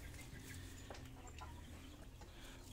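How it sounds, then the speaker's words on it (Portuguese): Free-range chickens in a small backyard coop cluck softly and intermittently at a distance, scattered calls over a constant low background. "Aí outras galinhas caipira aqui."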